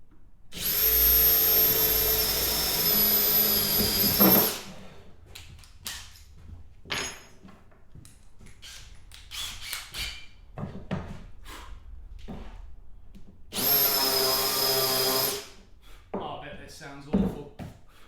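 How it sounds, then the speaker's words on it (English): A power drill whines loudly in two bursts, boring holes for a 360 camera magnet mount, with speech and handling noises in between. "I will drill a hole in these"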